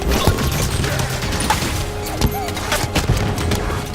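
Gunfire in the Halo 5 game, a busy firefight of sharp shots and impacts scattered through the clip with a few louder bursts near the middle and end, over continuous battle ambience.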